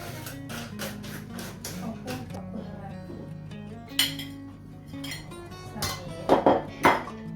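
Utensil clinking and scraping against a pot while stirring a homemade Thai dish with toasted ground rice, soft taps and chinks repeating irregularly, a few sharper clinks near the end, moderately close.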